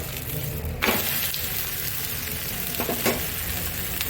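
Ragi and green gram dosa sizzling in oil on a hot pan, a steady close frying hiss with a few brief scraping touches from a spatula.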